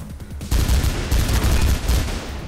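Sustained rapid gunfire in the first-person game Mirror's Edge, loud dense bursts of shots running continuously after a brief quieter opening, with no talking.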